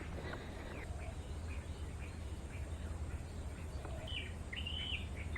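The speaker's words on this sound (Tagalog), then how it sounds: "Puro huni yung naririnig natin." Faint, scattered bird chirps and short calls at Cabusao Wetlands, Camarines Sur, over a steady outdoor background hum, with a few brighter tweets near the end.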